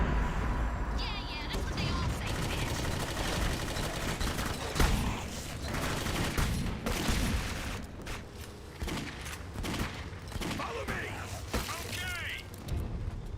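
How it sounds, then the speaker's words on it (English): Shotgun blasts and gunfire in the video game Clive Barker's Jericho, loud repeated booming shots with clattering mechanical sounds in a busy, dense mix. "the shotgun has a nice sound to it, nice meaty kind of hit"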